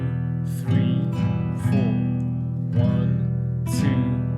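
Guitar strummed on each beat in a beginner rhythm exercise: four evenly spaced, close strums ring out over a sustained chord, with no voice over them.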